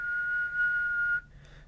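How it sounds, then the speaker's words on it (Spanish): A person whistles one steady, sustained tone close to a microphone for about a second, then stops, leaving a faint breathy trail. "Ahora si yo silbo"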